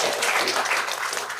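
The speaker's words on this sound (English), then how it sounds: "That's a good place for a hand clap." An audience at a school board meeting breaks into brief applause, a soft wash of many hands clapping at a moderate distance for about a second and a half.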